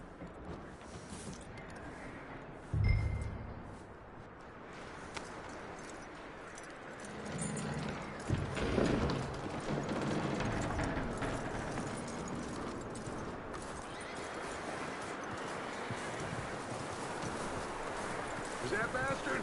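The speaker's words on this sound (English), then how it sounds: "That looks like a decent horse." Horse hooves clip-clopping in the game Red Dead Redemption 2, soft and faint steps under low ambient noise, with some talk and a thump early on.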